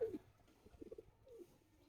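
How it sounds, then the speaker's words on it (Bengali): Soft, low pigeon cooing, a few gentle throaty pulses close by in a quiet setting. "এটা একটা বাচ্চা কবুতর ছিল, এটা আমি বড় করছি, আমার কোপের কবুতর"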